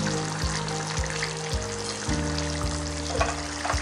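Fish curry cooking in a pan over a medium flame, a continuous close sizzle and bubble with a steady humming tone running beneath it.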